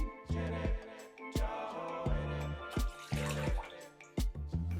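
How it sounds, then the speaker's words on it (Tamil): Water splashes and pours into a pan in uneven bursts, about two cups for rava vada batter, close up and fairly quiet, with some clinking of the vessel. "ஒரு பேனில் ரெண்டு கப் அளவுக்கு தண்ணி சேர்த்துடலாம்"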